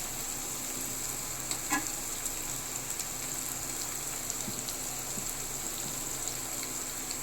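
Chopped green chilies fry in a thick-bottomed pan for a prawn curry with a continuous, even sizzle close up and a couple of faint taps against the pan, with no voices.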